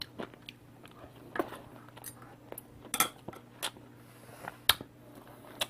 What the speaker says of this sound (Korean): 10분 정도 삶았는데 씹히는 식감이 좋네요